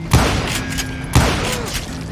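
Two heavy gunshots boom about a second apart in the Wild West video game Call of Juarez, loud and close, each followed by a lingering echo with no talk.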